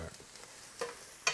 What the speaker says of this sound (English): The onions should come apart as they cook.